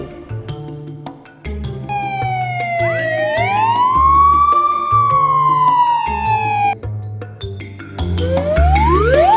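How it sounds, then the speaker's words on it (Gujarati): An emergency-style siren played from a vehicle, rising wails and sweeping tones over a rhythmic background beat, loud and close, with the pitch climbing, holding, then dropping before another rising sweep starts. "સાયરન વગાડીને મજા લઉં"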